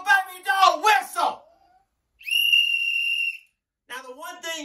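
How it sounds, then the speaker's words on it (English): A little baby doll toy whistle gives one sustained shrill, steady tone lasting about a second, set between stretches of someone talking before and after it. "Little baby doll whistle."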